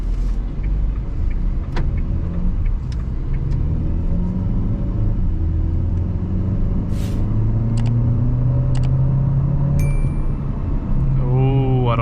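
A Dacia Duster SUV with a 1.3-litre 150 HP engine and EDC automatic gearbox drives along, a low engine rumble with rising and falling tones heard from inside the cabin, scattered clicks and a brief electronic chime near the end.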